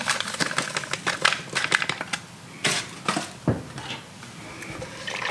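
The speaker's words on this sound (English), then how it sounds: "And then we're gonna add our package of pectin to this. Give it a whisk." A whisk rattles fast and unevenly against the sides of a cast iron pot as powdered pectin is mixed into wild grape juice, close and fairly loud, with a few pauses and heavier knocks.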